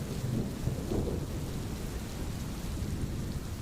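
A thunderstorm rumbles low and continuously beneath heavy, steady rain, a dense wash of downpour with deep rolling thunder swelling near the start, set on a dark roadside at night.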